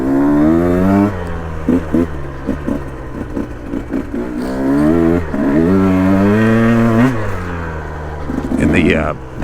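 A 2022 KTM 125XC dirt bike on a tight trail ride revs up and down repeatedly. Its close, buzzing engine note rises and falls in pitch, and a voice talks over it.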